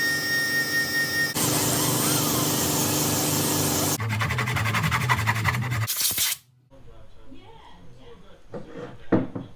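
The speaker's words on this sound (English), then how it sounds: "So I might just hit that with the die grinder real quick" A die grinder sands a rubbing spot on a street bike rear wheel fitted to a custom CBR 450, with a loud, continuous, close grinding whine for about six seconds, then it stops and a voice follows.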